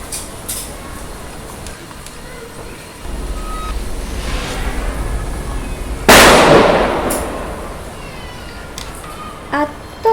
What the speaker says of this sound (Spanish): A tope con los petardos.